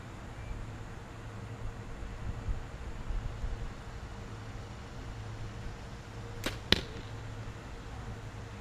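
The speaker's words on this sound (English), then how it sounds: "I have a balloon set up about 20 yards from here. Let's see if I can hit it." Arrow shot from a bow at a balloon target about 20 yards away, heard as two sharp, quick snaps close together late in a quiet outdoor stretch of faint hiss and low background rumble.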